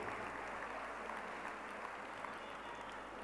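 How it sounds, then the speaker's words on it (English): Faint, steady applause from a school audience honouring a teacher who has served more than 50 years, a continuous even patter heard from a distance with no talk over it. "I think we need a big applause"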